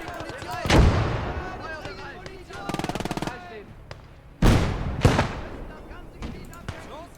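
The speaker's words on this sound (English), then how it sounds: "Let's get our machine guns working." Machine gun bursts and heavy artillery booms in the video game Legion of the Damned: two loud, sharp impacts frame a rapid rattling burst, with a voice talking between the shots.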